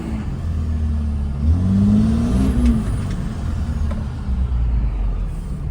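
Lifted 5.9 Cummins diesel truck with a Banks 6 Gun tune and aftermarket exhaust, a deep loud idle rising into a rev and settling back, heard nearby with a steady low rumble throughout.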